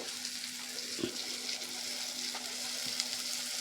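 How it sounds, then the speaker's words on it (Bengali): Sliced onions drop into poppy seed paste frying in a pan, a soft continuous sizzle with a couple of light scraping knocks, moderately quiet and free of talk. "এই পোস্ত ভাজার মধ্যে এবার পেঁয়াজগুলো আস্তে আস্তে করে দিয়ে দেব"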